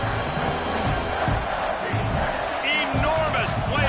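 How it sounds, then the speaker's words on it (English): In College Football 26, a stadium crowd roars loudly and without a break during a Michigan vs Oklahoma game, with swells of cheering and game effects over the top. A commentator talks throughout. "this crowd is bringing down the house"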